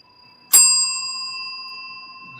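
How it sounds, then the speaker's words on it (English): An old bell from 1959 is struck once, giving a sharp, bright ding that rings on as a sustained, slowly fading metallic tone, close and alone. "So Matt, when you do your bell, do you get like a better sound?"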